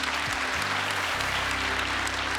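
Audience applause on a local television program in Lac-Mégantic, a loud, continuous burst of clapping over low background music.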